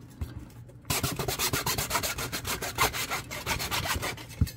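A hand saw cuts through a wooden dowel for model building with rapid, even rasping back-and-forth strokes, close and fairly loud, starting abruptly after a short quiet moment and continuing steadily.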